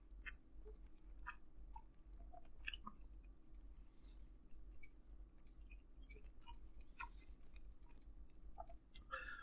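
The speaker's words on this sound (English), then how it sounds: "I'm chewing it up like I haven't eaten in a year." Close, quiet chewing of a pizza sandwich during a solo mukbang meal, with soft wet mouth sounds and small crunchy bites scattered through a steady low hum.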